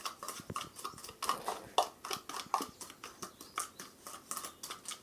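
Oil mixed into a small paste for a toothache remedy, with a spoon tapping and scraping in a small dish in a quick, irregular rhythm, close and soft, without talk.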